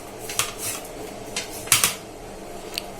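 A knife cuts up a shark fish, trimming off its fins before the fish is cooked into shark puttu. Sharp, irregular clicks and chops land against a steady background hum, with several distinct strikes across a few seconds.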